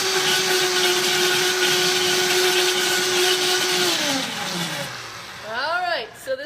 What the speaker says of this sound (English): let's blend this baby up